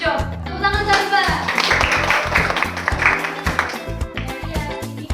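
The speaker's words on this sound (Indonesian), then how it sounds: "Tepuk tangan sahabat." Students clapping together in a classroom during a microteaching lesson, a rhythmic burst of hand claps mixed with children's voices and a teacher speaking over it.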